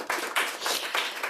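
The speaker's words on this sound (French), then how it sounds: "Vous pouvez vous applaudir" A studio audience claps, a brief close burst of rhythmic hand clapping in a few pulses rather than a swelling ovation.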